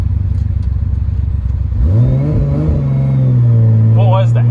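A Nissan R32 GTR engine, all-wheel drive, idles with a rough low rumble and then climbs steadily under throttle into a loud, rising drone heard from inside the car, with a voice speaking over it.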